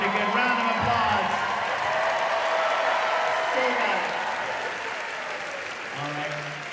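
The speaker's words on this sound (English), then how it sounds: "Round of applause for all three of these wonderful people here" Audience applause at a live talk event with three guests, a dense steady wash of clapping sustained throughout at fairly even loudness, with crowd voices and talk mixed in underneath.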